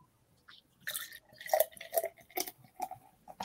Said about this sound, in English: Let's pour some in the glass.